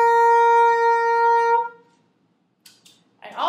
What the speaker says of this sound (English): and this is a bassoon.